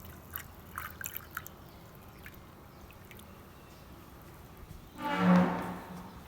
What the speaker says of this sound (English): water comes out of the holes